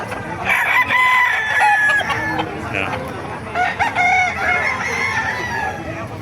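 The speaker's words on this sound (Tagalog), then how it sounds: "Marami manok dito mga kamaster." Roosters crow loudly and repeatedly nearby among clucking chickens at a chicken market in Bocaue, Bulacan, with a man's brief remark in between.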